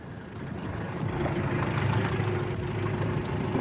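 A taxi pulls up in a busy street: a steady low engine rumble with traffic noise swelling slightly, close by and continuous, with no voices over it.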